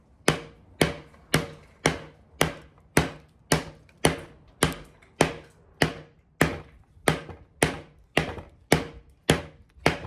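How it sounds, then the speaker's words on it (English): A heavy bowie knife strikes a hardwood door in a steady rhythm, about fifteen sharp, evenly spaced chops ringing out close and loud with no talking. "bang this against the door here, this hardwood, and see how it holds up"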